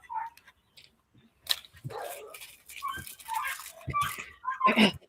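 Neighbor's dogs barking at a distance, a few scattered barks among irregular bursts of other sound, faint and intermittent rather than a steady chorus.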